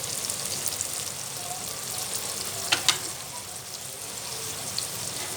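Garlic paste and small green chili paste fry with softened onions in a mutton karahi pan, giving a continuous, fairly close sizzle. A couple of sharp utensil clicks land midway through the steady crackle.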